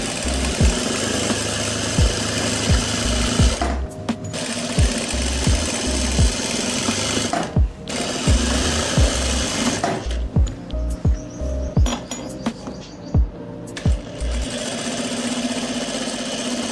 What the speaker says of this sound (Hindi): ऐसे ही हमने फिर थोड़ा सा पकड़ा, इसको खींचा और अब हम सिलाई लगाएंगे।